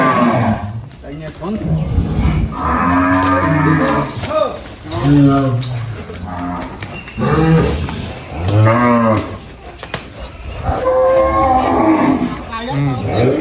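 Cattle being led from a farm to a Qurbani market low loudly and close by. Several long, drawn-out moos repeat every few seconds, with human voices and outdoor commotion in between.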